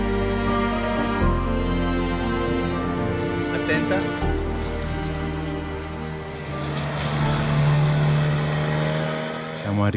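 A boat motor drones loudly and steadily close by, its tone shifting slightly as it runs, with some talking underneath.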